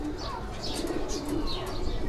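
Pigeons at a fancy-pigeon showing, including red-eyed birds, coo in low, steady murmurs from close by, with faint chirps overhead and no talking.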